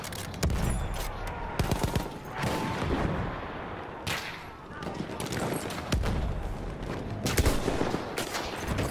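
Gunfire in the World War I shooter Battlefield 1: dense bursts of automatic fire and sharp single shots, some loud and close, others distant, with a player talking over the battle.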